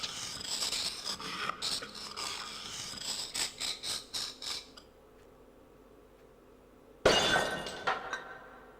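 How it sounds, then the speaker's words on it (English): A toy urn is smashed to pieces in the Discworld Noir video game: a run of loud, close shattering and breaking crashes over about five seconds, then quiet, then one more sharp smash with clinking debris. "I smashed the toy urn into tiny pieces, and inside was the golden sword."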